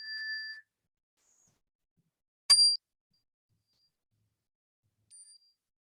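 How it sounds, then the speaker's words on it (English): A single meditation bell strikes once to open a mindfulness session, a clear ringing tone in near silence that fades quickly, followed later by a faint short ring. "You'll hear the bell as a way to start."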